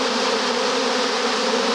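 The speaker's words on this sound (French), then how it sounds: "Il y a des abeilles partout." Swarming honey bees buzzing thickly and continuously, a dense, steady close-up drone from many insects with no pauses and no voices.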